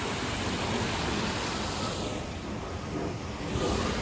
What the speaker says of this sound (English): Let's look a little bit closer at the waterfall.